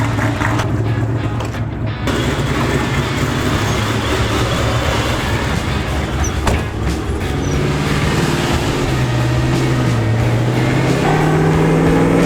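A supercharged Mustang with a fully built motor cruises on the highway, producing a continuous road and engine rumble with rising and falling engine tones, heard from inside the car.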